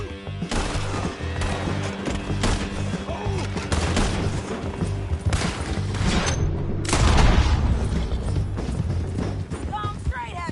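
Gunfire in a Red Dead Redemption 2 shootout with repeated loud shots and bursts over a dense music and effects bed, with a heavier blast partway through and voices shouting in the mix.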